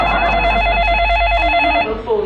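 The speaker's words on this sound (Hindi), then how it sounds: "phone call" A telephone rings with a warbling electronic trill held steady for nearly two seconds before cutting off, followed by faint background sounds.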